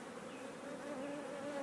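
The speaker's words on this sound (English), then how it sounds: "But there's plenty of bees in this box." Honey bees buzz steadily inside a large hive box, a dense, continuous droning hum from many bees close by, with no voices.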